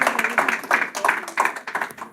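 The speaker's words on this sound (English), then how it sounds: "keep that applause going if you would for our two teams tonight as well" Audience at a fundraiser debate event clapping, a close and moderately loud patter of hands with uneven pulses, no voices over it.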